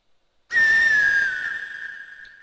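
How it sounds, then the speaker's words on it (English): A bird in the Quest for Glory 4 video game gives one loud, sustained whistle that slides slightly downward, then fades over about two seconds, heard alone. "That stupid bird. Every time you get that sound"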